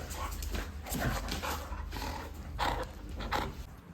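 A dog at home barking several times in short separate bursts, fairly faint and at a moderate distance, over a quiet low background hum.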